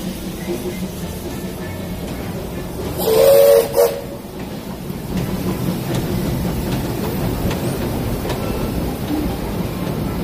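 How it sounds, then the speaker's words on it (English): A train at Disneyland rumbles past steadily with a hissing, roaring wash of noise, and a brief whistle sounds partway through. "Here's a train."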